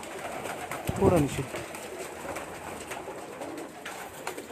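Pigeons coo near the microphone, with one burst of throaty cooing standing out early, over a busy background while someone talks throughout.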